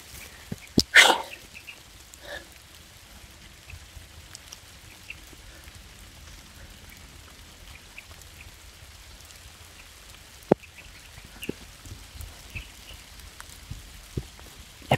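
Rain falls steadily as a soft patter with scattered sharper drops, interrupted early by one loud burst and a few clicks.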